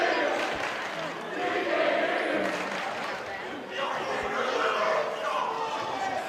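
Student crowd at a high school boys basketball game, Alta versus Olympus, a loud continuous roar of cheering and chatter with shouts rising and falling, under an announcer's voice.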